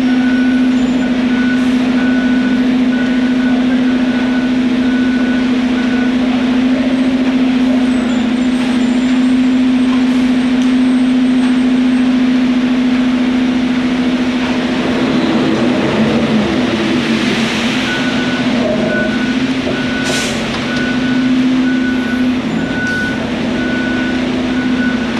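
A concrete truck reverses into a large slab pour with a steady, loud backup beeper sounding continuously, layered over a constant diesel engine drone and site rumble.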